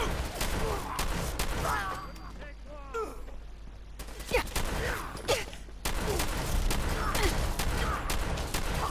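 Bursts of gunfire in the video game Fallout 4, rapid volleys of shots that come in clusters with brief gaps, loud and close, while a character's voice breaks in between the firing.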